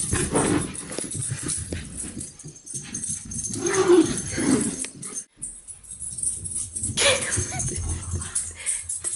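A dog whimpers and whines in short, uneven bursts, with occasional rustling and a few faint voices in the background.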